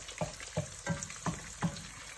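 Eggs fry in oil in a pan, heard as a steady close sizzle punctuated by five evenly spaced soft scraping stirs.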